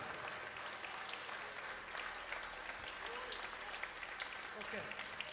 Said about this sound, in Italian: Io vi chiederei un grande applauso